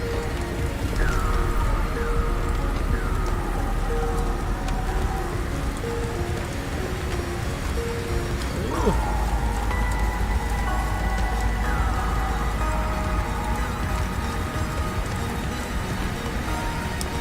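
Stormy weather with hail and rain in the Below Zero video game, heard as a steady, dense patter of precipitation on surfaces. Faint tonal game sounds chime over it throughout.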